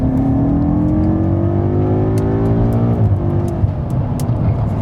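BMW M5 G30 (2019) accelerating on a track, its engine note climbing steadily in pitch, loud and close from inside the car, then dropping sharply on a gear change before pulling again.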